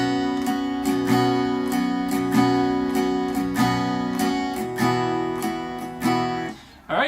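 Acoustic guitar strummed in a steady 3/4 waltz pattern for a worship song, bright repeated chord strokes with an accented downbeat, close and clear, ringing alone with no voice until a brief muted stop near the end.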